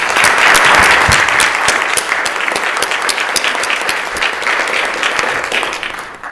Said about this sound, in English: join me in a round of applause for my mom and her birthday yesterday.